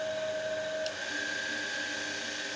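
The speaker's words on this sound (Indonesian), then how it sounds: "motornya tetap berputar tapi tidak ada proses pengisian" A motor keeps spinning with no charging taking place, a faint steady electric whine with sustained tonal hums and a brief click partway through.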